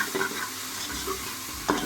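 Salt and red chili powder fry in hot oil in a pan for an aloo matar curry, giving a soft, steady sizzle with a few scraping stirs of a spoon, fairly quiet and without talk.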